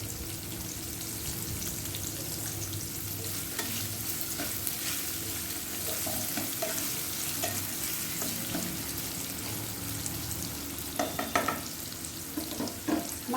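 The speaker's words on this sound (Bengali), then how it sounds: "আমার গাজরটা ভাজা হোক।" Carrots fry in a pan with a steady, moderate sizzle, joined by occasional clinks and scrapes of stirring that grow busier toward the end, with no voices.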